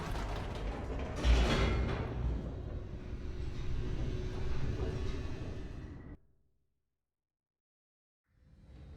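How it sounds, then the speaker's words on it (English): An elevator descends in the narrated game The Stanley Parable: Ultra Deluxe, giving off a low mechanical rumble with creaking and ratcheting that runs steadily for several seconds, then cuts out abruptly into silence. "The elevator raced downward, plummeting towards an unknown fate."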